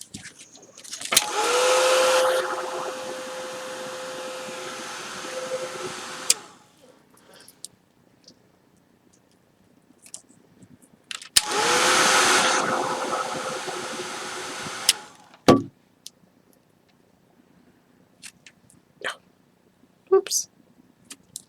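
A hair dryer drying a paper craft layout, blowing in two steady, loud whooshing bursts of about five and four seconds, with a steady whine and quiet gaps between, plus a few clicks and taps.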